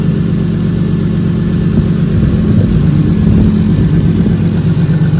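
A drift car's engine idles steadily while warming up before a dyno session, a continuous low, even rumble that stays close and loud for the whole stretch with no talk over it.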